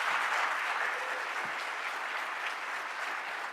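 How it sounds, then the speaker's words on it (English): An audience applauds keynote speaker Joy White at an HBCU event, a steady, even wash of clapping that holds at a moderate level and eases slightly toward the end. "So thank you for the applause."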